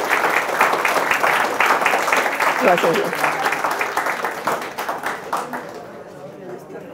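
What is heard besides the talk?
audience applause welcoming a speaker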